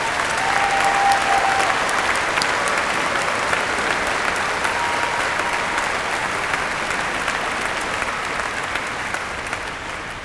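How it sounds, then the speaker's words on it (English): A large convocation audience applauds faculty and staff at an engineering graduation ceremony, a long, even roar of many hands clapping that holds steady and fades slightly toward the end. "Let's give them a nice round of applause, the ones that are represented here"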